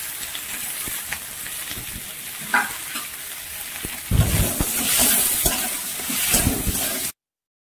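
Onion and capsicum sizzle and hiss in a pan for Odisha-style Indo-Chinese chilli cabbage, with intermittent stirring scrapes and the frying growing louder midway before it cuts off.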